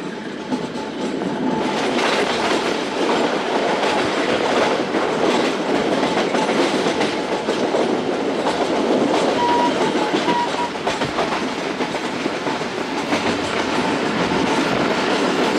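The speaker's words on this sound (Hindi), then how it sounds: "बेगमांझी पास कर रही है ट्रेन" The Karachi Express passenger train rolls past Begmanjhi station with a loud, steady rumble and rhythmic clickety-clack of wheels over rail joints, sustained and close throughout.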